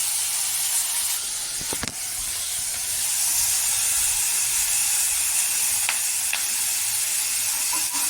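Garlic frying in oil in a pan, a steady broad sizzle and hiss running throughout, with a few brief clinks of stirring.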